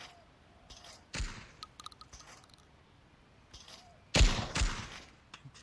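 Two loud, sharp bursts of video game gunfire ring out alone, separated by a few seconds, with fainter clicks and small shots in between.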